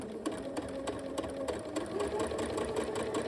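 A sewing machine stitching Drunkard's Path quilt pieces hums along steadily. Its rapid, even needle rhythm is soft and close, with no voices.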